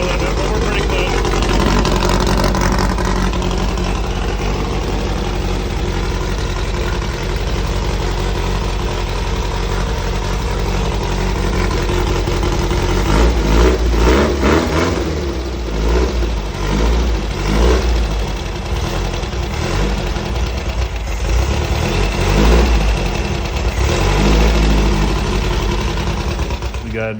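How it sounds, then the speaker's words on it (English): A 1964 Formcar Formula Vee racer engine with an untuned carburetor runs close by in a garage, idling roughly and then revving in bursts, with a voice talking over it. "We got a running car."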